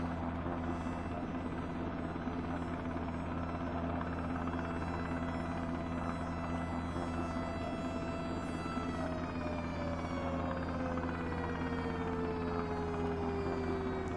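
A helicopter in the firefighting video game Into the Flames drones steadily with a constant rotor and engine hum, joined partway through by a falling whine, with no talking.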